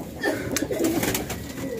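High-flying Giribaj, racing and Bombay fancy pigeons coo in a close, steady chorus of throaty rolling calls, with no talk.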